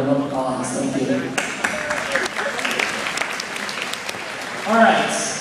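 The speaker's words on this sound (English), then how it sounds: "So one more round of applause." An audience at a school event breaks into applause, with a few seconds of clapping between stretches of a voice speaking.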